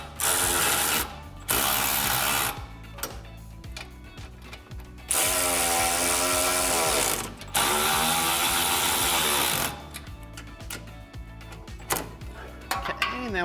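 A ratchet tightens the bolts of a subframe support brace on a 2015-2023 Mustang, making rapid, loud clicking bursts that start and stop several times close to the microphone.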